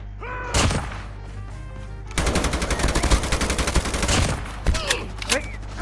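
Rapid automatic gunfire in the mobile shooter Call of Duty Mobile, a dense sustained burst of close, loud shots after a few isolated bangs, with scattered single shots trailing off at the end.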